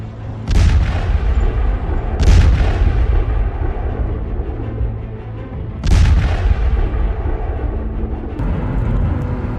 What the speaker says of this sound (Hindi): डोनेत्स्क क्षेत्र के सोल्वियांस्क में रूसी गाइडेड एरियल बमों ने जबरदस्त धमाके किए